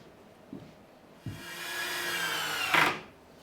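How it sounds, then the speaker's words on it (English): A power driver sinks a screw into a cedar potting bench, preceded by a couple of knocks of wood, then a rising whir for about two seconds ending in a sharp grinding bite before stopping. "So I'm going to go ahead and get the screws in."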